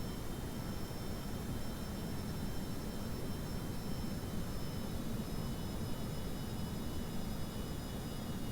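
A steady, unbroken aircraft engine drone from a plane in flight in Kerbal Space Program, with a constant hum and hiss and no talk.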